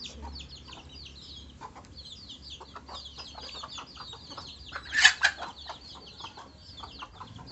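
Chickens clucking and chattering close by while feeding, a busy continuous stream of short calls with a louder squawk partway through.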